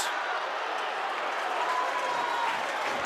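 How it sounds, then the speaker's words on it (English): A rugby league crowd at Featherstone versus Wakefield in 2022 roars and applauds after a strong passage of play, a broad, distant wash of cheering that holds steady throughout. "That's got the crowd going."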